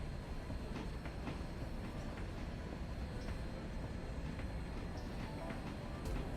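Train cars rolling in the Railroader video game, a steady low rumble with faint rhythmic clicks of wheels on rail joints, continuous and even throughout.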